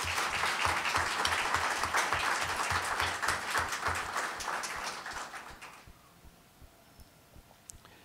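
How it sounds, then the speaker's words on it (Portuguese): Audience applause at a book-launch lecture on studying history, a dense, steady clapping from a full room that holds for about five seconds, then fades out into near silence with a few scattered claps. "Eu agradeço os aplausos"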